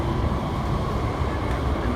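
A loud, continuous rumbling roar of a moving train running above ground through Hong Kong's New Territories, steady and close, with no breaks.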